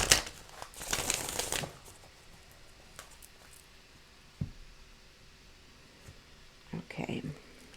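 Tarot cards riffle and slap in a quick burst near the start, followed by quieter handling, a soft thump, and another brief rustle near the end.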